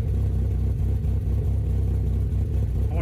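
A car engine idles with a lumpy, loping rhythm, loud and close, with a steady pulsing beat and no talking over it.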